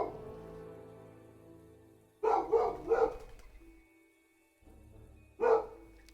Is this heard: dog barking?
yes